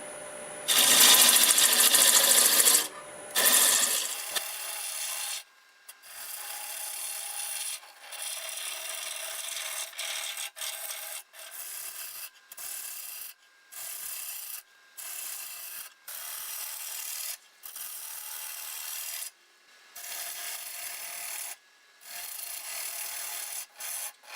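Sequoia wood turning on a lathe, a loud rough cutting rasp at the start followed by repeated shorter passes of the tool against the spinning wood, each separated by brief quiet gaps, no talk.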